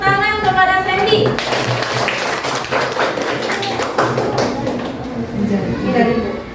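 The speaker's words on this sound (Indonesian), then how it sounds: "Berikan tepuk tangan kepada Sandy." Schoolchildren in a classroom clap for a classmate, a run of quick, sharp claps that carries on for several seconds, close and loud.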